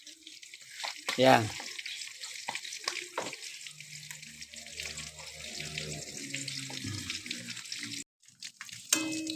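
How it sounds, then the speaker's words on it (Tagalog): Pork sizzles in a frying pan with a steady, close hiss that runs throughout; a voice speaks briefly at the start. "Ayan po, nakasalang na yung aking pinipritong baboy."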